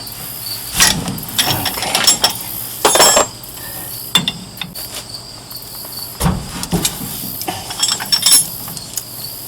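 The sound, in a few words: double wrench loosening bolts on truck rear brake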